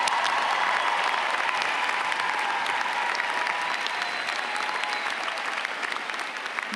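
Commencement audience at the 2022 Cambridge College graduation ceremony applauding steadily, a dense sustained wash of many hands clapping throughout, fairly loud and continuous with a slight fade near the end.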